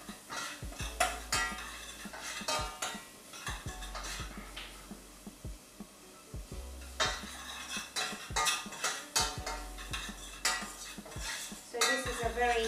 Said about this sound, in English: Keep stirring until it changes color but not brown.